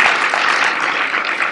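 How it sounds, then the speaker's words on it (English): An audience at a Florida Realtors seminar claps in a dense, even burst of applause that holds steady and loud for its whole short span, with no voices over it. "Give them a round of applause for this time."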